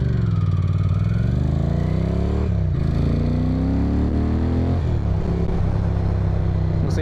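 Ducati Monster M600 motorcycle engine heard from a helmet-mounted microphone, a steady loud drone with rising and falling revs as the bike accelerates and shifts, continuous throughout with wind rush.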